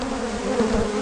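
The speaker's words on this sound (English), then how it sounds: "I'm taking care of these bees for these people." A dense swarm of Africanized killer bees hums steadily and close, a continuous loud buzzing drone with no speech over it.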